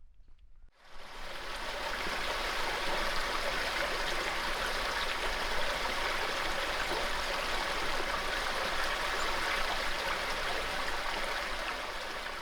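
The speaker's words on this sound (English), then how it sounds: "There's a creek on one side of it, so I'm walking down here to check it out." A creek near a campsite in the Talladega National Forest area flows steadily, making a close, continuous rushing and burbling of water that holds at an even level for the whole stretch, with no talking.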